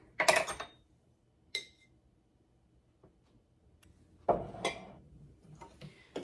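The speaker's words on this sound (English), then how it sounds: "You can go ahead and mix that all in so you have a nice batter base that is a dry mix" A dry batter of gluten-free flour with onion powder and garlic powder is stirred in a bowl for chicken tenders: a few sharp clinks and scrapes of utensil on bowl come in short bursts with quiet pauses between, close up, without talk.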